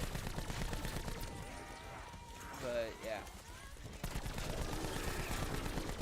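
Gunfire in a zombies video game rattles in rapid bursts, dense and fairly loud, broken by a short lull with a voice before the shooting resumes.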